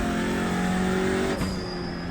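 A TCR race car engine holds full throttle at Barber in the iRacing sim, a loud steady high-pitched drone that lifts in pitch before a quick shift drops it, then climbs again.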